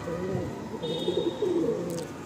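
Pigeon cooing from a loft bird with blue-bar plumage, a soft low throaty coo that carries steadily under a faint higher tone and quiet background noise.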